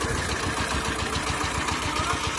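The small engine of a Kentavr walk-behind tractor runs close by with a fast, even chugging pulse, held steady for a couple of seconds.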